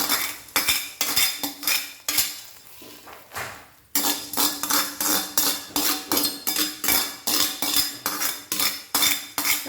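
Washed coriander seeds land in a hot flat pan and are stirred, giving a series of close metallic scrapes and clinks in an irregular rhythm, with a short quieter stretch partway through.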